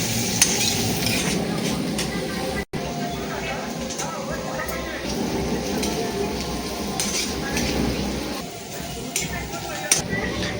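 Spring onion whites stir-fried over a high gas flame for Indian-style veg fried rice, with steady sizzling and scraping, stirring across the whole stretch, and a clipped clink of utensils, while a voice talks over the cooking.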